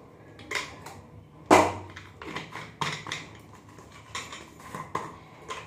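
Half a teaspoon of ground coriander spooned into a marinade for a paneer, potato, capsicum and pea dish, heard as scattered close clinks and taps of a spoon against a bowl, with one sharper knock.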